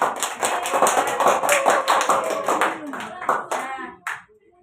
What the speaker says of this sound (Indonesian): Tepuk tangan dulu deh buat Indah.